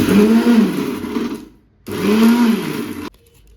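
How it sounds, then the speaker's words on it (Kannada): A mixer grinder whirs loudly in two bursts while blending flaxseed and green chilli chutney, each burst about a second and a half, with a short silent pause between them. "ಈ ಥರ ಮಿಕ್ಸಿ ಮಾಡ್ಕೋಬೇಕು."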